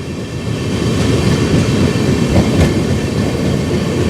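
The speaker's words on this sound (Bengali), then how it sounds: "এই মুহূর্তে ট্রেন পার করছে শক্তিগড়" The 13065 Howrah–Anand Vihar express train rolls slowly through Shaktigarh, producing a continuous loud rumble of wheels on rails with a few faint clicks and squeaks, heard up close without talk.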